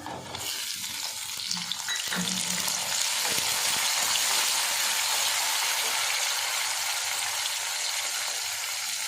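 Chopped onions sizzle and fry steadily in oil in a pan for a South Indian idli tempering, a continuous close hiss with faint stirring clatter throughout and no talk.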